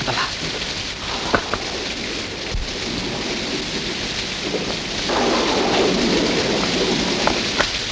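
Heavy rain pours down in a steady dense hiss during a storm, with a couple of sharp thunder cracks and a surge in intensity midway, close and loud, with no voices.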